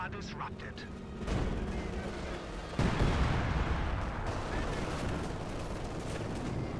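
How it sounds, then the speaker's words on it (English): An artillery barrage in Company of Heroes 2, a coordinated barrage ability in a 2v2 match, sounds as dense rumbling blasts and crackling impacts that swell and continue under a caster's running commentary. "can then get another barrage out of it with the coordinated barrage ability"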